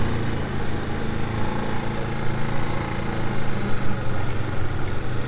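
The engine of a semi-automatic vehicle is revved hard to get it moving. A steady, loud, rumbling engine drone runs continuously throughout with slight surges in level.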